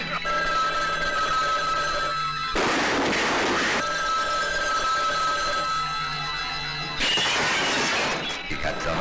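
Telephone ringing loudly in a 1980 horror film trailer, repeated bursts of bright electronic ringing broken by two crashing, noisy impacts.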